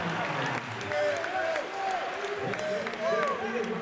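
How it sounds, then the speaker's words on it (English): An MMA event audience applauds the fight's runner-up, steady clapping and crowd noise under a ring announcer's voice, with a few whoops rising near the end. "let's cheer for your runner-up, Samir Faiddine."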